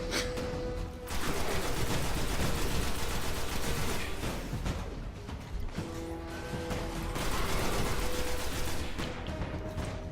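Rapid, shotgun-like gunfire from the Destiny video game fills the scene in a dense, continuous barrage of overlapping blasts and crashes, loud throughout with only brief dips.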